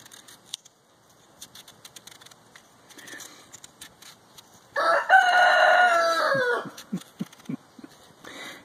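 A rooster crows loudly and close in one long, strained call, followed by a series of short clucks, with scattered clicks and taps around it.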